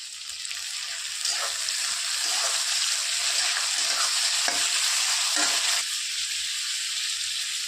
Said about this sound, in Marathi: परतून घ्यायचं आपल्याला कांदा थोडंसं लाल आहे आता टाकत आपण टमाटे दोन टमाटे